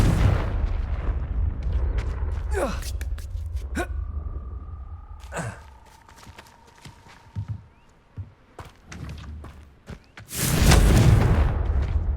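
Confringo blasting spell explosion in the Hogwarts Legacy video game, one big loud blast near the end after quieter game ambience, footsteps and sparse clicks and chimes.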